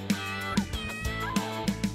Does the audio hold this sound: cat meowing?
yes